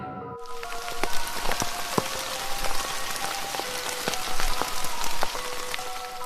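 Steady heavy rain pours during a storm in an open rice field, a dense continuous wash of drops with sharper close splashes scattered throughout.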